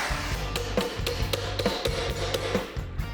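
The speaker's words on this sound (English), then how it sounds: "make a little dolly tool that we can hammer the thing back into shape with" Rhythmic metallic hammer blows against a makeshift dolly tool, knocking a dented part back into shape in a garage, with close, sharp strikes repeating at an irregular but steady pace.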